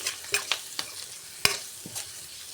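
Turmeric being stirred into a spinach and onion curry in a pan, several sharp spoon scrapes and taps at an uneven rhythm over a faint sizzle, close and moderately loud.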